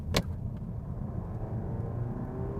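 A Volvo V90 estate with an automatic gearbox that is slow to respond: a low, steady engine rumble builds from inside the car under acceleration, after a brief sharp click at the start, with no talking.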